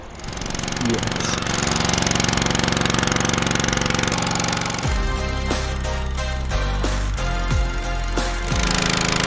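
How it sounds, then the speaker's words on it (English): A loud, steady boat engine drones throughout with a rough, rattling knock on the Kabul River in Pakistan, while voices talk faintly beneath it. "Engine is a little loud"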